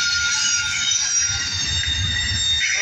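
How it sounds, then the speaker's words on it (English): Southern Pacific freight locomotives pull hard in El Paso, Texas, a loud, steady rumbling roar with high, sustained metallic wheel squeal running the whole way through. "You hear the locomotive working hard?"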